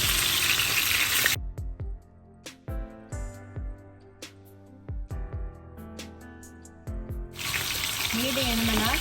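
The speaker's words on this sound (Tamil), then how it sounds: "மீனை வந்து ஒரு 2 நிமிஷம் பொரிச்சு எடுத்தாலே காணும்." Fish frying in a pan gives a loud, dense sizzle at the start and end, with a stretch of plucked, tonal music filling the middle while the frying drops away.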